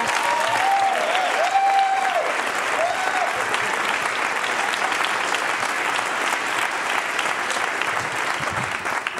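Sustained, even applause from a stand-up comedy club crowd at a 1995 comedy half hour, a thick wash of many hands clapping close and loud throughout, with a brief voice heard over it at the start.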